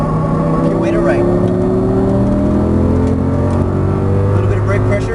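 An Audi race car engine accelerating on a Las Vegas exotic-racing track, a loud, continuous rising whine with steady droning harmonics. A driving instructor talks over it throughout.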